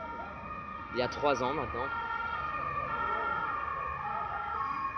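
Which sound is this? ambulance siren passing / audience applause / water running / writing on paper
ambulance siren passing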